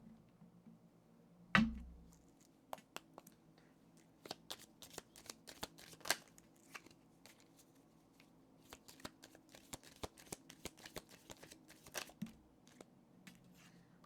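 Tarot cards shuffled by hand: a sharp riffle at the start, then a long run of soft, irregular card flicks and taps, close and fairly quiet, with no talking.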